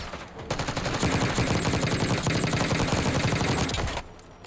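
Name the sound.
gunfire in video game Black Ops 6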